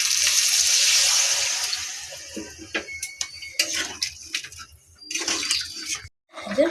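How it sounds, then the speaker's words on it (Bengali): Water pours in a steady rushing stream for about two seconds into a cooking pan of snakehead fish curry with ground spice paste, followed by scattered clinks, light taps and bubbling in a quiet kitchen. "জল দিয়ে দিলাম।"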